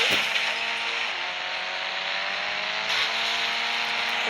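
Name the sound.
car engine in a mobile driving video game (IBD3D)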